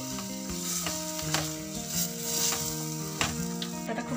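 Peanuts being stirred into a spiced filling of garam masala powder and roasted spice mix in a pan, with soft sizzling and repeated scraping stir strokes at close range, no voices.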